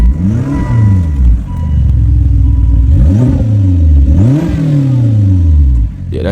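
A turbocharged 2005 Volvo S60 R AWD sedan engine revs up and falls back several times, loud and close, with no talking over it.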